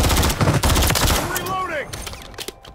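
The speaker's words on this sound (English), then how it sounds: "Taking effective fire." Heavy video game gunfire, rapid overlapping shots packed densely at the start and then thinning into scattered cracks as the firing tapers off.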